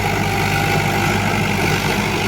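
A tractor engine laboring under load while pulling a rotavator through moist soil during mustard sowing, a loud steady low diesel drone around 1600-1700 RPM, close and continuous without talk.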